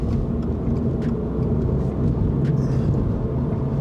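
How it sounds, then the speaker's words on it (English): Inside a 2022 Subaru BRZ coupe moving through city traffic around Sydney, a steady low engine and road rumble drones continuously at close range with faint tyre hiss. "Now we've well and truly entered city traffic"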